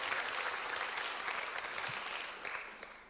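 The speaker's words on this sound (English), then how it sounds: "Another warm applause for Grace Asirwatham." An audience at a HagueTalks event on women, peace and security applauds warmly, a dense, even wash of clapping that holds steady and then fades slightly toward the end.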